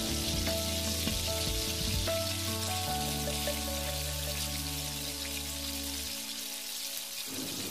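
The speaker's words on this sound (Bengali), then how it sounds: "মশলাগুলোকে আমি একটু কষিয়ে নিব।" Garlic and ginger paste with spices frying in a pan, a dense continuous sizzle like steady rain, close and even throughout, with a faint tonal hum fading near the end.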